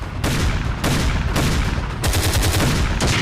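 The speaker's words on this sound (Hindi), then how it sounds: "राजस्थान की रेत में थल सेना के तोप और गोले बरस रहे हैं" Army artillery guns and shells firing across the Rajasthan desert, a dense, continuous barrage of loud overlapping blasts and crackling bursts with no pauses.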